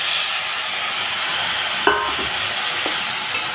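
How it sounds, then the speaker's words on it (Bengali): Boiled tomatoes drop into a pan of frying chickpeas for ghugni, a steady close sizzle and hiss with a brief splattering burst as they go in, then gentle stirring. "বুটটা ভাজা ভাজা হয়ে গেছে। এখন দিয়ে দিচ্ছি সেদ্ধ করা টমেটো।"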